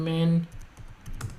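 A few quick, soft clicks of typing on a computer keyboard follow a short burst of speech, close by and faint.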